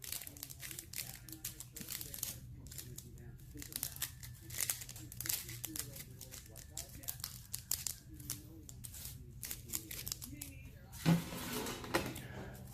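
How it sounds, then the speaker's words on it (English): Aluminium foil is folded and crumpled by hand while preparing a rotisserie chicken, with crinkling rustles coming in bursts close by and a louder crunch near the end. "you want to fold that piece in half and fold it in half again"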